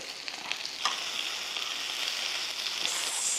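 Korean dumplings fry in a hot pan with a steady, bright sizzle and crackle, and a few louder pops and spatters break through.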